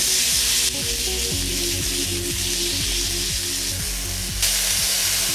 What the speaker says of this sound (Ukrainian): Спочатку я просто обсмажую курку без спецій до золотистості.